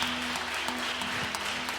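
A church congregation keeps up steady applause that fills the whole moment, even and sustained, with no voices above it.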